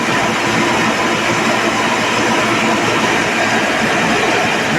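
A homemade 20 kW wood-fired generator runs steadily nearby, giving a loud, continuous broadband rumble and roar with a constant low hum and no voices.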